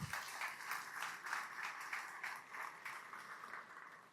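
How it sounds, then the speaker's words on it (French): Audience applause at a New Year's greetings ceremony in Dreux, a steady patter of many hands clapping for about four seconds, moderately distant and fairly soft, with no talk over it. "On peut l'applaudir chaleureusement, s'il vous plaît."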